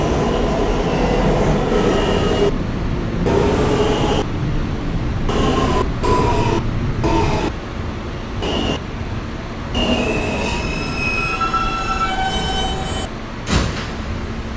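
A Coney Island–bound New York subway F local train is heard from inside the car, rattling and rumbling loudly, with rhythmic gaps and bursts from the track and a brief wheel squeal near the end.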